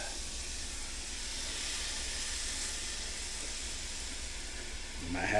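Steady broadband sizzling of bread for a keto Philly cheesesteak sandwich frying on a hot griddle, continuous and fairly close, with a brief louder scrape or rustle at the end.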